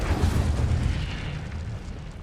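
Incendio fire spell cast in Hogwarts Legacy, a deep roaring whoosh of flame and rumbling burst, loud and sustained over a couple of seconds.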